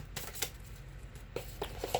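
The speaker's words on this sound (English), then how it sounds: "Let me shuffle the deck." A deck of cards is shuffled close by, giving quiet, scattered papery clicks and riffles over about two seconds with no talking.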